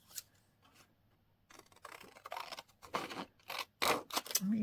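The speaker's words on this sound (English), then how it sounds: "what I'm going to do is I'm going to cut that" Scissors cutting patterned, wood-effect paper for a Christmas advent scrapbook page, a series of close, crisp snips and slicing rasps that grow louder toward the end, no speech.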